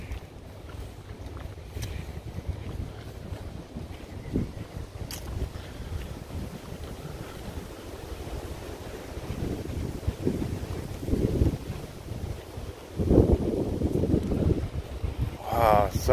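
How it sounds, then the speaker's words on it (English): Strong wind blows outdoors, buffeting the microphone with low rumbling gusts that swell and surge louder toward the end, with no voices. "very windy."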